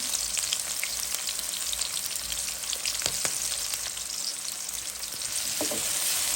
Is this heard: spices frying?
yes